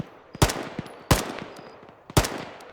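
Three heavy, separate gunshot bursts ring out in a video game, each a sharp loud crack with a short decaying tail, spaced roughly a second apart and close by.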